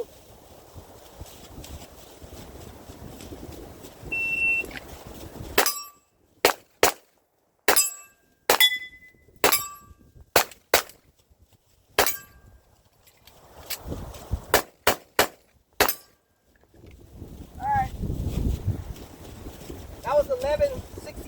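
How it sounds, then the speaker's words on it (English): Rifle with iron sights firing during a designated target drill: about a dozen sharp, loud cracks in an irregular sequence with quiet gaps between them, framed by soft wind and outdoor noise before and after. "I shot that one 3 times."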